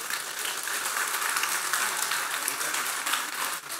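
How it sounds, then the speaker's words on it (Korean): A church congregation at a Friday evening service applauds its men, a dense, steady wash of clapping heard from a distance with no clear gaps. "그 여자들은 남자들을 위해서 박수 한번 쳐줘봐요."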